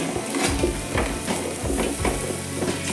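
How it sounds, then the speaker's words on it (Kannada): Mushrooms fry in a pan with an even, close sizzle, broken by a few soft stirring scrapes and clinks at a steady rhythm. "ಈಗ ಮಶ್ರೂಮ್ ಹಾಕುವ. ಫ್ರೈ ಮಾಡಬೇಕು."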